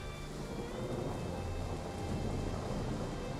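Video game battle weather of steady rain and thunder: dense, constant hiss of rainfall with a low rolling rumble underneath, loud and continuous without speech.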